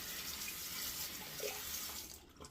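A OneBlade razor rinsed under a running tap: a steady, close hiss of water splashing into a sink that cuts off near the end.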